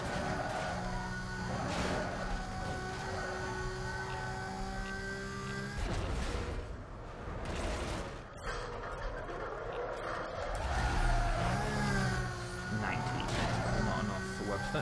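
Race car engine roaring under nitrous boost in Need for Speed: Most Wanted (2005) on Xbox 360, a steady droning whine that surges and rises in pitch, with a crash-like thump midway and someone talking over it.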